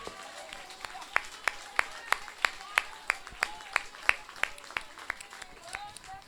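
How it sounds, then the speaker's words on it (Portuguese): A church congregation at a regional congress service claps to the Lord in a steady, unison rhythm of sharp claps, roughly three per second, with voices carrying underneath throughout. "aplauda o Senhor com toda a sua força"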